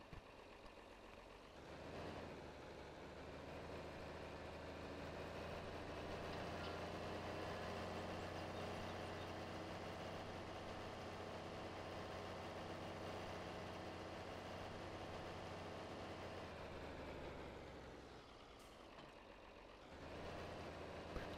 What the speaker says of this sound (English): And then we'll put the tractor away.